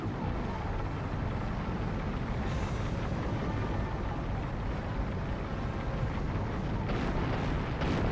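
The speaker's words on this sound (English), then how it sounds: "With Fire Castle, we can set everything ablaze." A roaring blaze from the Fire Castle attack in the video game Kessen 2, a dense, continuous rumbling wash of fire and explosive crackle that stays loud throughout.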